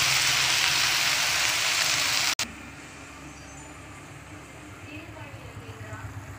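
Spinach, onion and garlic sizzle loudly in a frying pan for about two seconds, then the hiss cuts off abruptly to a much quieter low crackle while someone speaks.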